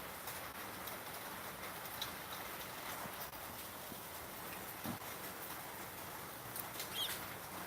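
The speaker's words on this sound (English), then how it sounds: "I feel like this rain is making my throat way drier." Rain falls steadily in a soft, even hiss, faint and continuous in the background, with a few scattered small ticks and no talk.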